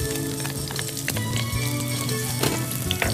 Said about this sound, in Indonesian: Tumis dahulu bawang merah